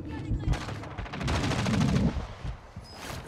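Automatic gunfire in Warzone 2 rattles in a dense, continuous burst at moderate distance, easing off into a few scattered shots.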